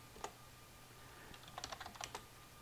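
Quick keystrokes on a computer keyboard as a terminal command is typed, a soft early tap followed by a brisk cluster of clicks near the end, close and quiet with no talking.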